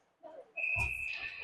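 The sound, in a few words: referee's whistle at an ice hockey game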